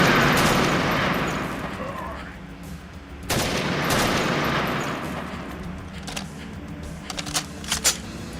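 Video game AK rifle gunfire, a burst of sharp shots starting loud and easing off, then a few scattered single cracks near the end, over a dense background din.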